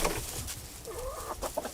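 Chantecler chickens cluck and chatter in short, overlapping calls, fairly close, with a rising squawk in the middle and quick clucks at the end.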